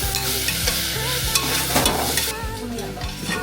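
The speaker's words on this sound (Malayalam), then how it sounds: "അപ്പൊ പച്ചമുളക് ഇട്ടിട്ട് ഇതൊന്ന് നന്നായിട്ട് വഴറ്റിയിട്ടുണ്ട്." Green chillies sizzling and frying in a pan for a Kerala-style roasted coconut chicken curry, loud crackling oil under repeated scraping stirs of a spoon against the pan, close and continuous.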